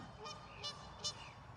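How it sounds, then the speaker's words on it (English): Three honks from Canada geese ring out at about half-second intervals, moderately distant, over a low steady background rumble, in a park during spring. "The Canadian geese have just seen the drone"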